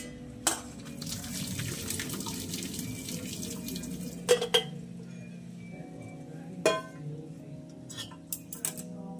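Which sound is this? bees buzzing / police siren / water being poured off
water being poured off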